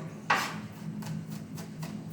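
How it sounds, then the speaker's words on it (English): Garlic is roughly chopped with a knife on a chopping board while preparing cottage pie: one firm, close chop, then a few lighter, quicker cuts against a steady low background hum. "I'm just roughly chopping the garlic."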